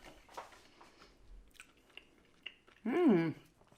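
Close crunchy bites and chewing of a thick, crispy tortilla in short bursts, followed near the end by a brief hummed vocal sound.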